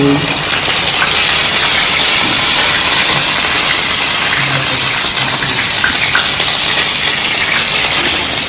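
Onion paste sizzles loudly and steadily in hot oil, a dense, continuous hiss that stays even throughout with no breaks and no voices.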